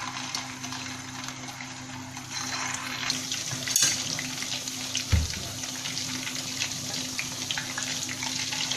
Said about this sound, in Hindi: कबाबों को हम शैलो फ्राई करेंगे दरमियानी आंच पर